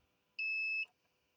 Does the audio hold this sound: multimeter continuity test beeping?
yes